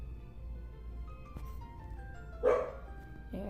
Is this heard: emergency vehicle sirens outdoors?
no